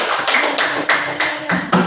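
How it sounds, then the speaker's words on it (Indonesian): Children in a classroom clapping their hands, a short burst of about eight loud, evenly spaced claps close by. "Oke, tepuk tangan."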